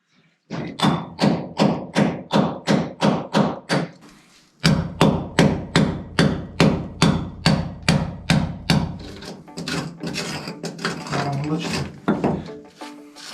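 Close, sharp hammer blows on a chisel strike concrete in a steady rhythm, roughly two dozen hits, with a brief pause partway through.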